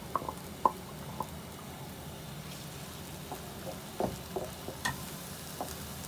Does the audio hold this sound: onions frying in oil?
yes